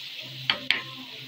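Garlic and dried coriander frying in oil in a pan while being stirred, a soft steady sizzle with two sharp scraping clicks of the spoon against the pan.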